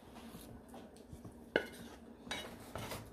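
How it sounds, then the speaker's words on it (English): Cooked macaroni is stirred into lobster and butter sauce for a bacon lobster mac and cheese, with soft scraping and several sharp clinks of a utensil against a metal pan, fairly quiet overall. "Mix it around there, a little bit, mix it all around."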